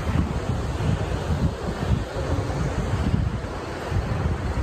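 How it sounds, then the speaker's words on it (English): Water rushing at Lake Whitney Dam in Texas, a loud, steady broadband roar heavily mixed with gusting wind buffeting the microphone, constant with no pauses. "Water's flowing in, but it's not flowing a lot."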